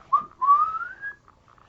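A voice whistling an imitation of R2-D2's long electronic whistle from Star Wars: a short chirp followed by one drawn-out rising tone, clear and close with silence around it.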